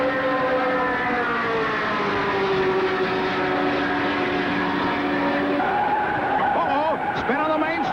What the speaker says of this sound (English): Spin on the main straightaway.